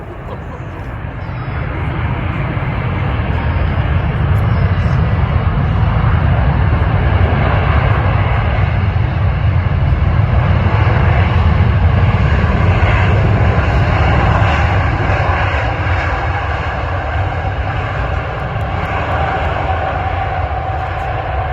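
An Airbus A321neo jet airliner at Manchester Airport roars past loud and close, a broad, steady engine rumble building in the first seconds and holding strong throughout, with a faint voice briefly underneath.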